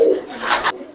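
A pigeon coos close by, a single soft throaty call that ends abruptly.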